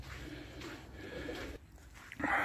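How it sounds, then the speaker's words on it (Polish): Homing pigeons released from a loft at a Polish racing-pigeon keeper's, with soft bird sounds and faint fluttering at a distance, rising to a brief burst of louder flapping at the end. "Gołąbki zostały puszczone panowie."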